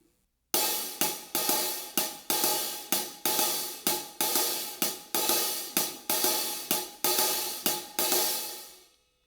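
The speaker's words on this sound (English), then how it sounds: "I'm going to pinch with my left hand to make a short sound." A steady drum-kit hi-hat groove rings loud and close, with open sizzling strikes broken on beats 2 and 4 by short, choked hits where the left hand pinches the cymbals, played alone with no voices.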